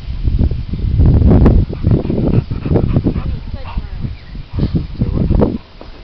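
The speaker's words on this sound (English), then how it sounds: "Look at them two big ass dogs," Two big dogs playing outdoors, with loud scuffling, panting and rustling close by under constant chatter and laughter from people nearby.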